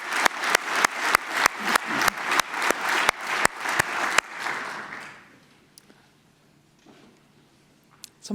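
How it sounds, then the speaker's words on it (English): Applause at a central bank conference honouring a former ECB chief economist: loud, sharp claps in an even rhythm over a bed of crowd clapping for about four seconds, then fading into a near-silent room with a few faint stray noises. "But I would like a big round of applause for the first chief economist of the ECB, Otmar Issing."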